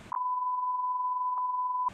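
A single steady electronic tone sounds for about two seconds, loud and unbroken, cutting across speech that resumes right after.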